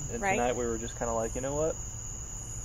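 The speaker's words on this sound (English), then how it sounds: "we've been having the crickets from inside with the window open" Crickets chirp outside through an open window in rapid, evenly spaced bursts, fairly close and clear, while people talk over them in a relaxed conversation.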